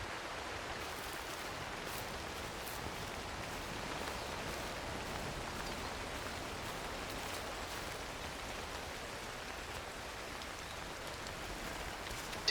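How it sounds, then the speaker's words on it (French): Steady rain falls outdoors as a soft, even hiss, faint and continuous throughout with no voices or other distinct sounds. "Évidemment, il pleut."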